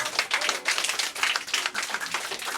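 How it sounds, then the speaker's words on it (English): An audience of children and adults claps after a performance, a dense, steady patter of many hands close by, with no voices over it. "Give them another round of applause"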